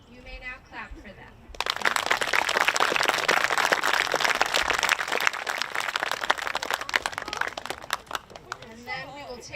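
Students and families at a 7th grade awards ceremony clap for the award winners, a burst of many hands starting after a voice speaks, holding several seconds, then thinning as talk resumes.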